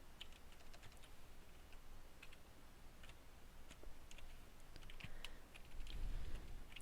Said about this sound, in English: my typing's a little bit slow here